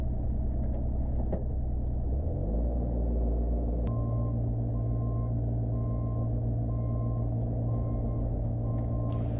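A truck hauling a trailer load of gravel reverses at a stone retaining wall build site, its engine rumbling steadily while a backup alarm beeps at a regular pace, loud and close, with no voices.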